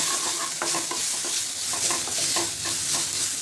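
Vegetables such as tomato, carrot and cabbage are stir-fried on full flame in a pan, giving steady loud sizzling and frying with repeated scraping stir strokes throughout.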